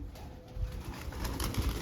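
Pigeons coo in soft, repeated low calls at a rural Punjabi home with a pigeon coop, the birds close by against a steady faint background hiss, with no talking.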